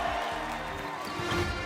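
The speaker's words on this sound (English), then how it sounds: "give him a round of applause as well" An audience claps and cheers for MrBeast, a brief, dense burst of crowd noise at steady, moderate loudness.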